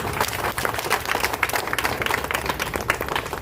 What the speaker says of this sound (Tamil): அவருக்கு ஒரு பெரிய கைத்தட்டல்